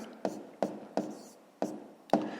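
Handwriting during a fifth-grade math exercise: five crisp, evenly spaced strokes or taps, each a sharp close attack that fades quickly, with no talking over them.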